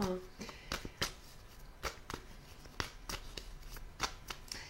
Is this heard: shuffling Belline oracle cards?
yes